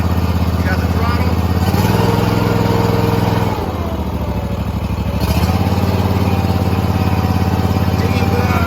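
Barreto 20RTK trencher's small engine running steadily close by, a loud buzzing drone that briefly dips as the throttle is worked before settling back, with someone talking over it.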